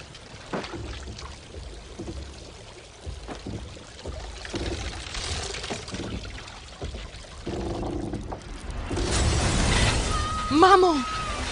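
Water pours and rushes into a house during a flood in a film, a building wash of splashing and surging under tense speech, swelling louder toward the end.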